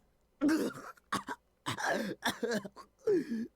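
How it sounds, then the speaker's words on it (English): A character in the visual novel game Chaos;Head Noah coughs after being choked, a run of harsh, close coughs in uneven bursts with short gasping pauses between them. "Kept on coughing, struggling desperately to get oxygen in my lungs."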